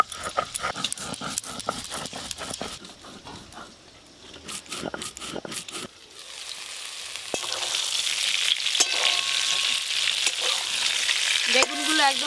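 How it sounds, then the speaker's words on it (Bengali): Eggplant pieces are stirred in a pan, with a spatula scraping and tapping in a quick rhythm. The frying then settles into a steady, close sizzle. "বেগুনগুলো একদম হালকা করে নেড়ে নিয়েছি, তুলে নেব এবার।"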